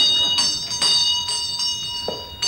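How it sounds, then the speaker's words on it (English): Church bells ring out loud and clear in a run of resonant, overlapping strikes that keep humming between blows, with no talking. "The bells! The bells!"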